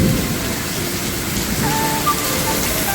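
Heavy rain of a Kalbaisakhi storm in Odisha pours down in a dense, continuous roar, loud and close throughout with no gaps and no voices.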